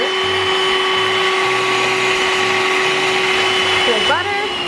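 An electric mixer beats butter and two sugars for cookie dough, a steady motor whine with a constant pitch running throughout, while voices talk intermittently over it.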